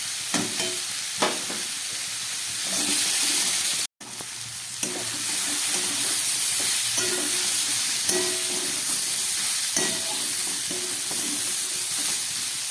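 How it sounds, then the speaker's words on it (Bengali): Green beans fry in a pan with a loud, steady sizzle, and a spoon or spatula scrapes and stirs them at irregular moments, close by. The sizzle cuts out for a brief instant partway through. "আর বিনস এগুলোকে একটু ভালো করে ভেজে নিলাম"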